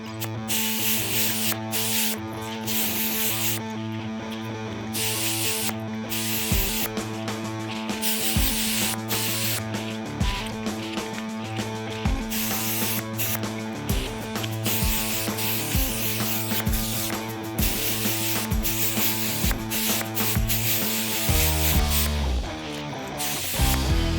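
Spray paint hisses in repeated short bursts and longer passes as Harley FXRT clamshell saddlebags are coated black, close and steady with no talking.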